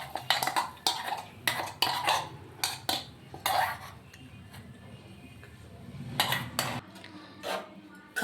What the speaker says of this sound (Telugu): ఇప్పుడు ఇది మొత్తం కలిపి ఆ సేమియా పెరుగు దాంట్లో